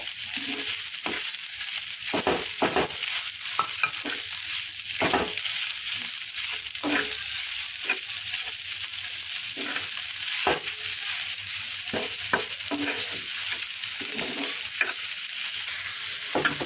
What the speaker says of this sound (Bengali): এখন এটাকে ভালোভাবে আসতে জ্বালায় এখানে নেড়ে সুন্দর করে মিশিয়ে